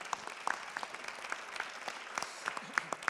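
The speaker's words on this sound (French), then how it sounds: "On peut applaudir Frédéric." An audience claps for Frédéric Bedos at a media and inspiration event, a steady patter of many hands with sharper individual claps standing out, moderate and continuous throughout.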